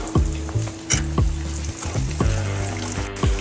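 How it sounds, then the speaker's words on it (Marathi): Sliced onion frying in hot oil with cumin and coriander for restaurant-style kaju masala, a crackling sizzle broken by repeated scraping stirs and spoon knocks, close and lively, with no voices. "आता आपल्याला कांदा टाकायचा आहे।"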